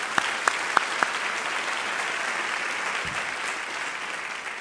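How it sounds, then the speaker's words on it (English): Steady crowd applause at a borough address in New York, dense even clapping held for under five seconds, with a few sharp louder claps near the start. "Give another round of applause to Sade."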